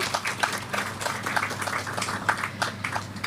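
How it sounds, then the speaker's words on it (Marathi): An audience at a poetry book launch ceremony claps throughout, giving a continuous patter of many hands that sounds fairly soft and distant. "या सर्व मान्यवरांसाठी जोरात टाळ्या होऊ देत"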